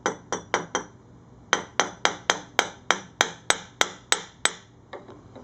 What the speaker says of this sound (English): I'm just going to use this to tap it out.